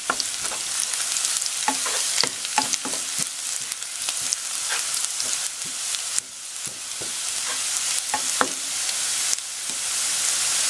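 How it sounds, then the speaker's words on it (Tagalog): Garlic frying in hot oil until it turns brown, a dense continuous sizzle with frequent crackles and occasional utensil taps, loud and close with no voices. "Lagay po natin itong ating garlic. Then, hintayin natin mag-brown before natin isunod yung onion."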